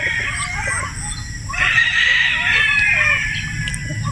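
At a Batangas game farm, a gamecock crows loudly nearby in one long drawn-out call, with other fowl clucking and squawking around it.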